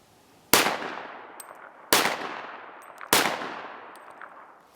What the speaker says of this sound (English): I've got the Springfield XD here, loaded, ready to take a couple shots.